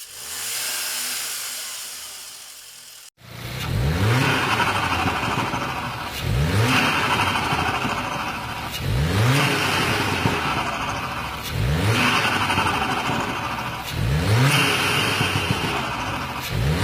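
A stationary car with a Turbosmart VR1 blow-off valve is revved repeatedly. Loud engine bursts come in a regular rhythm, about six times, each ending with a whooshing valve release.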